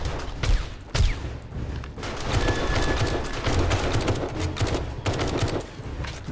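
Guns firing at a zombie horde at night in 7 Days to Die: rapid, loud bursts of gunfire in a dense volley, with short pauses between strings of shots.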